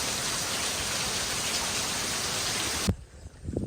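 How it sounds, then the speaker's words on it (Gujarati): Heavy rain pours steadily over a village in a dense, even hiss that fills the space, then cuts off abruptly near the end, leaving a few faint low sounds. "વરસાદ જ એટલો પડે છે"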